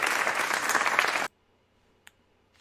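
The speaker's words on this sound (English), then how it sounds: "the round of applause is still going" Audience applause during an online junior chess tournament broadcast: dense, steady clapping for just over a second, then cut off abruptly into near silence.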